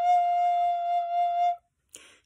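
A single sustained F natural on a recorder, steady and clear for about a second and a half with bright overtones, then a brief faint noise after it stops.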